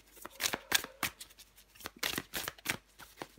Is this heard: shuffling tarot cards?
yes